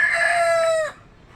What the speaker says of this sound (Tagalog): grabeng manok na yun, no?